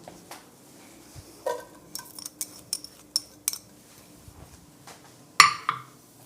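Rice goes into a pan of sizzling green onions for shrimp fried rice, bringing a string of light clinks and scrapes of utensil on pan, with one sharper metallic clank near the end over a faint kitchen hum.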